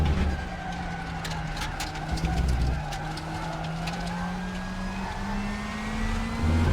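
McLaren race car engine in RaceRoom racing game, a steady sustained drone with pitch slowly climbing as it accelerates, continuous and fairly loud with faint ticking above.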